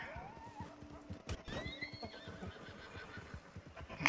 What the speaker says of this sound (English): Okay, horse, calm down.